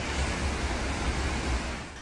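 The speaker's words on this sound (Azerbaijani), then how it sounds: "Soçidə hündürlüyü 4 metrə çatan dalğalar sahili aşaraq çox mərtəbəli yaşayış binalarının olduğu ərazilərə dolub" Storm waves about four metres high crash over the shore in Sochi, a loud, continuous roaring wash of surf and wind with no voices.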